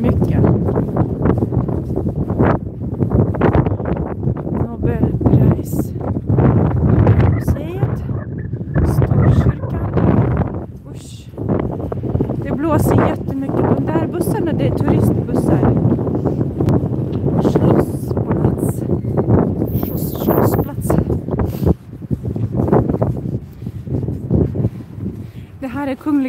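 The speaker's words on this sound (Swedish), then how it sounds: "Åh, vad det blåser. Här blåser det mycket." Strong wind buffets an outdoor microphone by the Royal Palace in Stockholm in February, a loud continuous rumbling roar that never lets up, while a person talks over it throughout.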